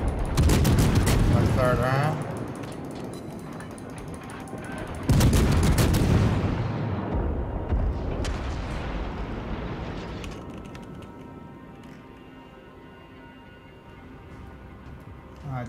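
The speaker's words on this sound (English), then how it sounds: "Shoot a few salvos on that battleship. Maybe we'll get them on fire." Naval gun salvos boom at a battleship in World of Warships, with two heavy blasts a few seconds apart, each trailing off in a long rumbling decay. Someone speaks briefly over the noise.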